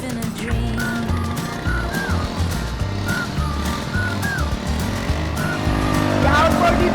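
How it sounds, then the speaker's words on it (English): A small boat outboard motor drones steadily at close range at sea in fog, its low engine hum running throughout while people talk and shout over it. "The outboard is working!"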